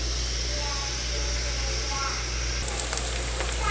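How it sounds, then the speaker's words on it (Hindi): Onions fry in about half a cup of hot oil over a lit flame, giving a continuous hiss and sizzle close by, with a few sharper crackles and light clatter toward the end. "प्याज हमारे फ्राई हो रहे हैं।"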